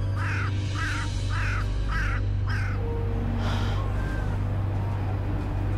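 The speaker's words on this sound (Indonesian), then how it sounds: "Suara burung gagak." A crow caws five times in a steady rhythm over constant low background rumble, followed by a couple of fainter calls.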